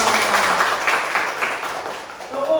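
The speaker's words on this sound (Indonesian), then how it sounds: "Ayo tepuk tangan untuk kita semua." Primary-school children in a classroom clap their hands together, a loud, steady patter of many hands that fills the room, with voices mixed in.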